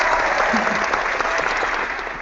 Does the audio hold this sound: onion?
no